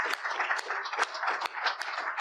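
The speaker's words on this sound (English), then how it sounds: "we should give a round of applause for the contributors that all made this possible" An audience claps together in a brief, dense burst of applause that holds steady for a couple of seconds, close and lively with overlapping individual claps.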